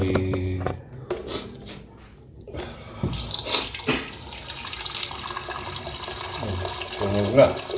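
Water runs from a kitchen tap into a pot or kettle at home, filling it for boiling; a steady hiss of flow begins partway through and continues, with people talking now and then over it.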